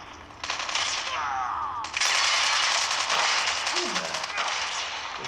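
Rapid automatic gunfire from a short-range gun in Call of Duty bursts loudly in sustained volleys. A voice speaks over the shooting.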